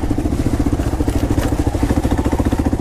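A Kawasaki KLR 650 single-cylinder engine thumps in a rapid, even pulse while riding off-road at McLean Creek, close and loud, with steady low throb and some clatter throughout.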